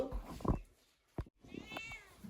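A cat meows a few times nearby, short clear calls separated by quiet pauses.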